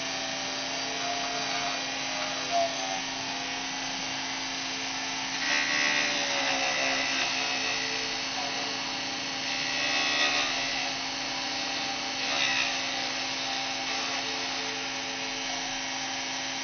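A homemade polishing tool built from a computer hard drive motor runs with a steady, continuous whir at close range, with slight rises in intensity as it works during small polishing jobs.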